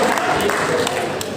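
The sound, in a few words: applause from a comedy show audience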